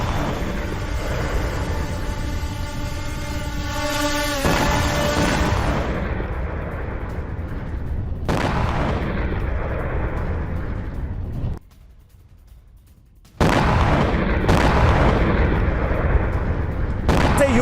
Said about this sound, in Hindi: रूस के ड्रोन हमलों से दहल गए यूक्रेनी ठिकाने